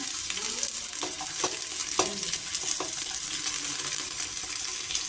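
Onions with ginger frying in a pan for mutton chops, a steady close sizzle with a few sharp stirring scrapes and clinks spread through, no voices.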